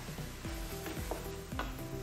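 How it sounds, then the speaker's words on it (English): Vegetables for cornbread stuffing being turned in a hot pan, with a few scraping stirs and clinks over a quiet sizzle, close and fairly soft. "I'm trying to turn my vegetables because it's so much"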